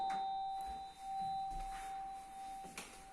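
A doorbell rings inside a house, a sustained electronic chime held for most of the moment against quiet background, with faint clicks and rustles around it.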